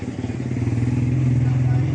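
A Yamaha YTX motorcycle engine running rough idles close by with a throbbing, uneven low putter and irregular pulsing.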